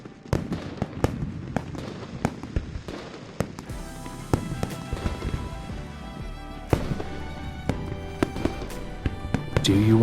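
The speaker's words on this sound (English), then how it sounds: "Do you want to set off fireworks in Hongling City?" Fireworks set off over Hongling City in a video game: repeated crisp bangs and crackles, some isolated and some clustered, ring out loud and near over a steady rumbling bed, with no voices.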